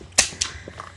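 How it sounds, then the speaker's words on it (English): A toy cap gun fires two sharp, close snaps about a quarter second apart, with faint mechanical clicking between and after, no talking. "this is a cap gun, just like the silver one"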